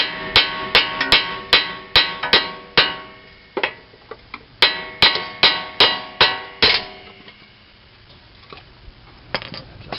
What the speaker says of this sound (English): you should just be able to hammer on the bolt in the middle.